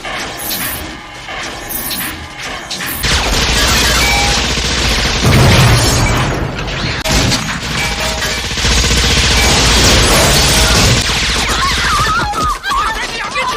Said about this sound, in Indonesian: Para polisi terus menembaki cyborg Kane, yang membuat Kane marah dan membalas tembakan mereka.